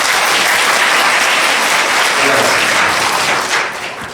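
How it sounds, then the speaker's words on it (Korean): A church congregation applauds together during a Sunday worship service, with steady dense clapping filling the room before tapering off near the end. "박수를 한번 축하하겠습니다."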